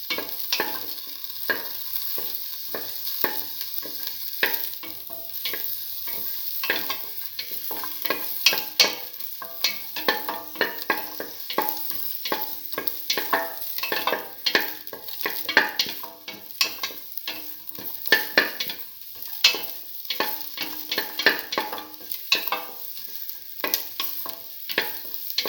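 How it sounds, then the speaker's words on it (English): A spatula scrapes and pushes shallots, red lentils and bottle gourd around a hot pan in repeated strokes over a steady, gentle sizzle, close and rhythmic with no voices. "keep on sauteing."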